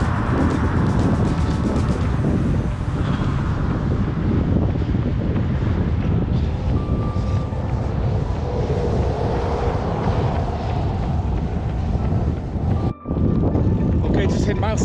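Strong wind buffets the microphone in a steady, loud roar during a long run along a windy highway, with occasional low rumbles and no clear speech over the gusts.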